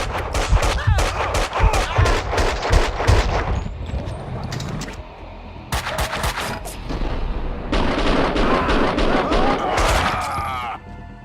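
Gunfire in the PC shooter Max Payne 2 comes as rapid bursts of loud close shots, then a brief pause and further sustained volleys, with game effects and a short voice among the shooting.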